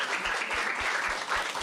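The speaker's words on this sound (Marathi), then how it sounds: "टाळ्या वाजाय दोघांसाठी एकदा" A studio audience at a comedy sketch claps in a brief, dense burst of applause that fills the whole moment at an even level.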